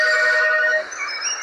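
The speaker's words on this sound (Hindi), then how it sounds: "पत्तियों के बीच पड़ा एक मोबाइल रिंग हो रहा था।" A mobile phone ringtone lying among leaves in a forest rings out in a steady, bright electronic tone, close and clear, then fades slightly toward the end.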